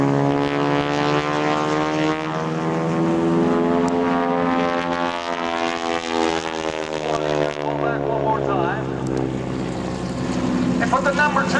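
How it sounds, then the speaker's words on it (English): An SNJ propeller warbird flying a loop at an airshow gives a loud, rasping radial-engine drone whose pitch rises and falls as it climbs and dives, with a voice talking over it. "The double loop right at Airshow center with SNJ aircraft."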